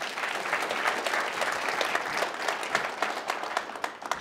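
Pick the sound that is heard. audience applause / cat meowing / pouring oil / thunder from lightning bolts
audience applause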